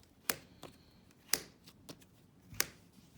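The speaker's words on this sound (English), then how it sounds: "I'm going to go ahead and flip over 3 new cards" Playing cards are flipped over one at a time during a game of Flip Freighters, giving three sharp, crisp snaps spaced about a second apart, close and fairly quiet, with a few softer taps in between.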